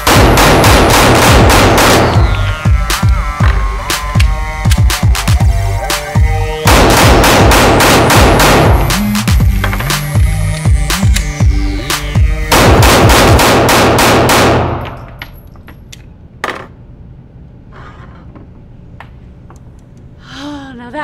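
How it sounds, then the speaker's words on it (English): Rapid strings of loud, close 9mm pistol shots from an XDS ring out in fast bursts during magazine dumps at a range, with short pauses between strings before the firing stops and quieter clinks follow. "I'm going to do some mag dumps, and I'm going to go through the rounds pretty quickly"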